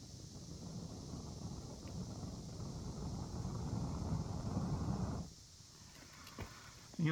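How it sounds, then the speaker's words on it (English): Steady, breathy blowing onto a smoldering natural tinder fire, a close, continuous rushing hiss for about five seconds that then drops to quiet rustling with a faint knock near the end. "you want to pucker your lips like you're going to whistle and get down and blow in one specific area"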